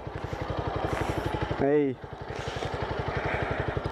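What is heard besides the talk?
Honda Fan 150 motorcycle idling with Cromo Forte exhaust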